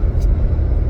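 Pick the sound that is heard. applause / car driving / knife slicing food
car driving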